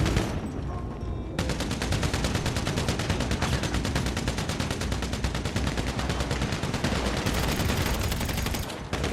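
Sustained rapid gunfire in GTA Online, a dense, unbroken automatic barrage that stays loud and close for several seconds with no pauses, heard alone without talk.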